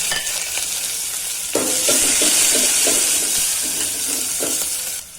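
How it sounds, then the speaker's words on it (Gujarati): Mustard seeds and whole cumin splutter in hot oil in a pan, a bright hissing sizzle that jumps louder partway through, with a run of quick pops and crackles that then settles back. "એક ચમચી આપણે રાઈ નાખી દઈશું એક ચમચી આખું જીરું આપણે સરસ ફૂટી જાય"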